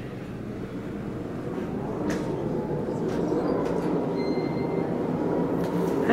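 1985 Otis Elevonic 401 high-rise traction elevator running, a loud, dense rumbling roar that builds slightly, with faint rattles and brief high whines on top.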